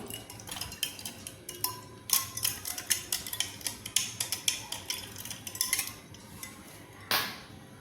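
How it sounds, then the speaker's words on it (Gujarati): A spoon stirring fennel sherbet with ice cubes in a glass, producing rapid, close, bright clinks and rattles in an uneven rhythm, with a short pause near the end and no speech. "બરાબર મિક્સ કરી લઈશું"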